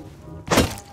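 A single heavy thunk with a brief cracking burst as a bed is smashed in the survival game Rust, loud and close, standing out from a low background hum.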